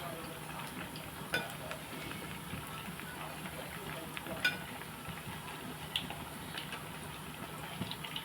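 Bobbara garelu, black-eyed pea fritters, fry in hot oil with a quiet, steady sizzle broken by a few small pops and crackles.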